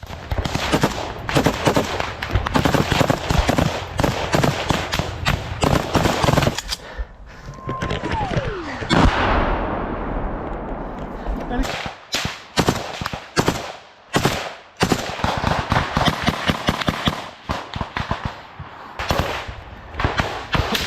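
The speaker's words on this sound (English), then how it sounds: "The Russian soldiers leapt off, sprinting toward the trench under the cover of machine gun fire." Bursts of automatic machine gun fire in a trench battle, rapid loud cracks in long dense volleys with brief pauses, a descending whistle and a low rumble partway through, all close and harsh.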